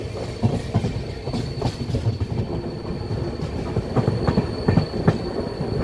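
A Kannur Express passenger train rolls past at close range, loud and steady, with rhythmic clickety-clack of wheels over rail joints and a faint high wheel squeal, in heavy rain.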